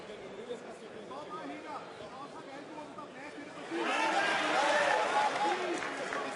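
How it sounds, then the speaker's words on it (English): At a Cage Warriors MMA event in Copenhagen, an arena crowd murmurs beneath the commentators' voices, then swells into a louder roar of cheering partway through. "the crowd here in Copenhagen cheering literally every movement Promini makes"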